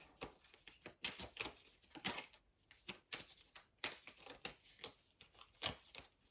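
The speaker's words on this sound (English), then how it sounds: "we're going to get a couple of Lenormand cards" Lenormand cards shuffled and handled during a tarot-style reading, a quiet run of papery flicks, riffles and soft slaps in quick irregular bursts, close by with no talking.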